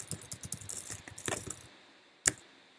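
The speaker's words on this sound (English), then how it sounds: "So we're gonna do some keyboard smashing." Rapid, clattering keystrokes from a computer keyboard being mashed, a dense burst of taps lasting over a second, then a pause and a single sharp key hit.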